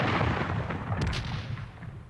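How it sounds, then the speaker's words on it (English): Cannon artillery fire at the outbreak of the American Civil War: a loud, continuous rumbling roar of heavy booms blending together, with no voices. "All the pent-up hatred of the past months and years is voiced in the thunder of these cannon"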